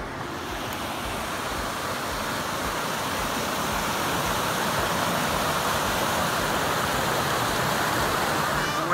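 Steady, dense rushing roar of a waterfall beside a cliff on a hillside near Cle Elum, constant and close, with no break or voice across the whole stretch.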